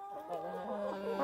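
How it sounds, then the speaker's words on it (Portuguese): Agitated clucking and squawking from two roosters fighting on a small farm in the morning, short harsh calls overlapping close by, brief and fairly faint. "Dois galos brigando, oh meu Deus."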